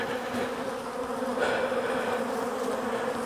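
Steady, dense buzzing of many honeybees around hives at close range, continuous and unbroken, with a slight swell in the middle.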